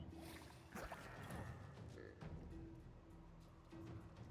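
Frog croaking in the video game Divinity Original Sin 2, repeated short croaks over a busy layer of game effects and ambience.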